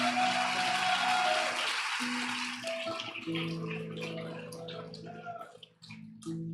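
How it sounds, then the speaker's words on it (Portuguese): A church congregation bursts into applause during a Sunday evening service, a loud broad wash of clapping at first that thins out as sustained organ or keyboard tones carry on underneath. "Dá uma salva de palmas para Jesus."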